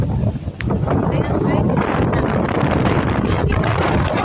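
Strong, steady typhoon wind among Hong Kong high-rise buildings roars and buffets the microphone with broadband rumble, while a person talks over it.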